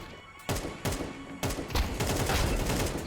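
Shotgun blasts in a first-person shooter video game, several loud booming shots at uneven intervals with a dense burst of gunfire toward the end, near and prominent.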